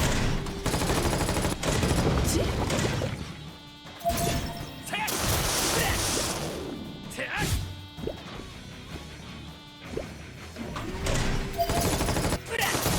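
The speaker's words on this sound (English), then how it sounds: "They literally try and gun you down while asking questions." Bursts of gunfire and crashing impacts from the Final Fantasy VII: Ever Crisis video game, loud irregular volleys and smashes with brief pauses between them.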